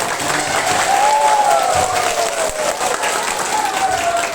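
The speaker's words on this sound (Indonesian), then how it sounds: "Tepuk tangan dulu" An elementary school crowd at a Mawlid celebration claps steadily throughout, loud and sustained, with a voice briefly audible over the applause.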